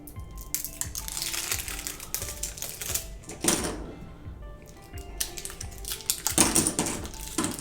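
Plastic poker chips for the Antematter board game clack and clatter as they are handled and set down, brisk close-up taps and rattles in irregular clusters.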